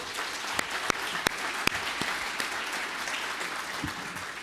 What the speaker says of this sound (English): let's give a round of applause for all of our business partners one more time